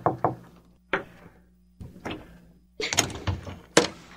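Knocking on a wooden bedroom door, several sharp raps in short irregular bursts with pauses between, close and fairly loud, ending in a quicker flurry of knocks.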